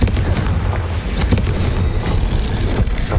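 Confringo fire spell explosion in the Hogwarts Legacy video game, a loud dense rumbling blast that fills the whole moment with continuous booming roar, no voices.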